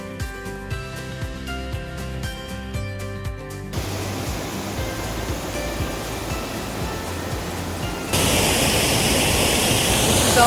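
A small but loud waterfall on the Ingleton waterfall trail roars steadily after a few seconds of tonal music, the rushing water growing even louder and closer near the end.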